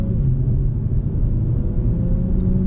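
A 2021 Acura TLX Type S sedan in Sport Plus and manual mode gives off a steady, loud low engine rumble from inside the cabin, even and continuous with no speech.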